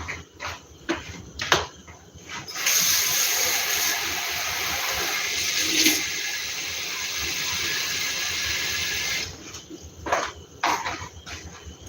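Water from a tap runs into a cooking pot for parboiling cabbage, a steady hiss lasting several seconds with quieter kitchen clatter before and after.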